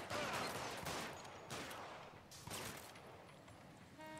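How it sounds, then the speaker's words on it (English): A rapid volley of gunshots erupts in the video game LA Noire, with repeated sharp bursts and a few more shots trailing off over the following seconds. "Okay, he's gonna shoot."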